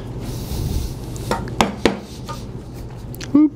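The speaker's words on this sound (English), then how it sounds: "I'm going to turn the chisel around, so I'm always leading with the bevel side forward, and I'm going to start from here" A hand chisel chopping a mortise in wood, with a few sharp, separate knocks spaced unevenly over a quiet background and one last louder strike near the end.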